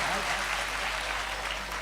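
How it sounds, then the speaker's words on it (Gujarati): An audience claps steadily at a Shivaratri folk performance, a dense continuous patter of many hands filling the room with no gaps. "તાળીયું પાડો, તાળીયું પાડો."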